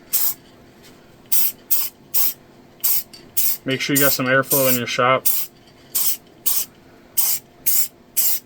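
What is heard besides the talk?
spraying liquid onto a holster vacuum mold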